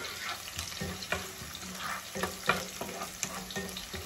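Onions frying in a few spoonfuls of oil left over from frying catfish, a dense close sizzle broken by repeated spatula stirs and scrapes against the pan.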